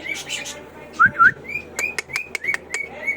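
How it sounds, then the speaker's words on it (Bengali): A breeding pair of cockatiels gives a series of clear, close whistles and short chirps, rising notes repeated in a quick irregular run after a few softer calls. "এই যে এই জায়গায় ব্রিডিং পেয়ার শীষ দিতে আছে দেখেন"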